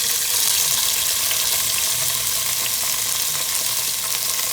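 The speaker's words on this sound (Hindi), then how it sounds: "अब इन्हें भी फ्राई करना है।" Vegetables fry in a pan for chicken pasta, giving a steady, loud hiss and crackle that holds evenly throughout, close up with no talking.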